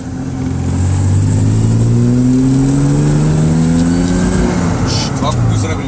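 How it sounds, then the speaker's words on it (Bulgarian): A Land Rover Discovery's off-road engine revs up close, its pitch climbing smoothly and then settling back down in one long, loud sweep. "А му правим оборотите."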